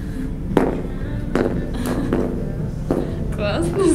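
High-heel footsteps ring out beneath a domed ceiling, four or five sharp clicks spaced about a second apart, each trailing a long echo, with soft chatter and rustle underneath.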